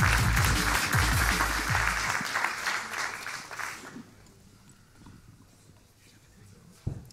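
Loud applause fills a humour-and-politics award ceremony for about four seconds, then cuts down sharply to a quiet room with faint murmuring and a single knock near the end.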